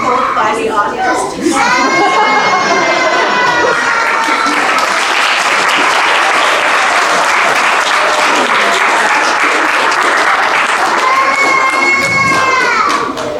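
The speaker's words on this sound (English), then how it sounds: "It was your enthusiastic clap." Enthusiastic audience applause fills a ribbon-cutting ceremony at a wellness center, a loud, steady wash of clapping with children's shouts mixed in, while voices speak just before and after.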